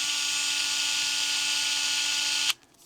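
A Panasonic C6 electric screwdriver runs with a steady high motor whine for about two and a half seconds, close and loud, then cuts off abruptly, leaving quiet room tone.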